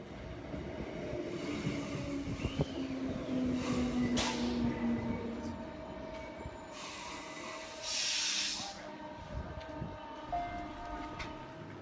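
Passenger train running with a steady rumble of wheels on rails, brief squealing tones and a couple of louder hissing bursts, continuous throughout and moderately loud, no talk.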